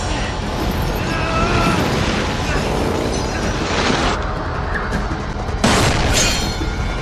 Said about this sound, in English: that sounded like a hand cannon